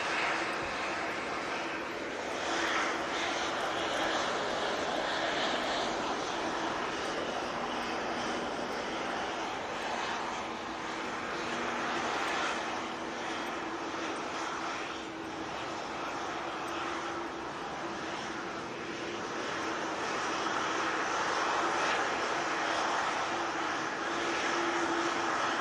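An airliner bound for Amsterdam roars down the runway on its takeoff roll and climbs out, a sustained broad engine rumble heard from a distance outdoors that swells and eases slightly over the long stretch, with no voices.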